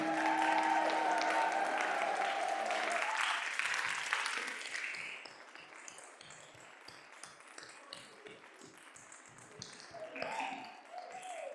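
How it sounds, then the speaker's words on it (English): A church congregation at a Sunday service applauds while sustained music rings out early on, then the clapping thins into scattered, fading claps with a few soft knocks. "Let's give one more round of applause for all of these amazing, talented people we have in our congregation."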